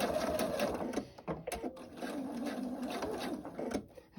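Sewing machine stitching elastic onto a medical mask, a steady close mechanical whir with a short stop and restart for back-tacking.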